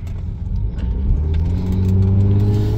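A Mitsubishi VR-X car's engine accelerates, revving up steadily and loudly from inside the cabin with a rising tone and no talking.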